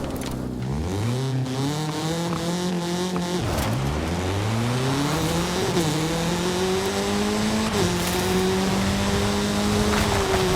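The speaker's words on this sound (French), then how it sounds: "la Peugeot s'élance, commence à monter" A Peugeot 205 4x4 engine revs hard as the car climbs a steep hill, its pitch rising and dipping through gear changes, loud and close throughout the run.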